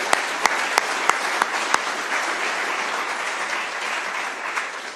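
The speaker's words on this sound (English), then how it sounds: "I want to give them a big round of applause" An audience applauding sponsors at a hacker security conference keynote: a few sharp early claps, then dense, even clapping that holds steady and slowly thins toward the end, filling the hall.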